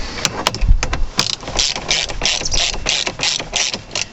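Ratchet tightening a steering wheel bolt on a Peugeot, with a quick run of sharp clicking strokes close by, alone.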